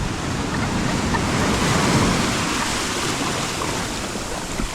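Strong sea waves wash over the sand at a beach in San Juan, La Union, making a loud, continuous close-up roar of surf with wind buffeting the microphone.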